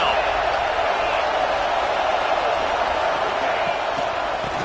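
Stadium crowd noise in a college football video game, Texas at Oklahoma: a dense, continuous roar of fans near the red zone, steady and loud throughout with no distinct cheers breaking through.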